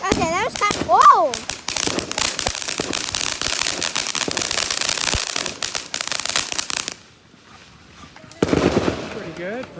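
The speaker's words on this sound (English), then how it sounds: "That's what we call fireworks, bro." Fourth of July fireworks crackle and pop in a dense, rapid barrage like firecrackers, with whistling rockets at the start and near the end, a brief lull before the last burst, and voices calling out over the noise.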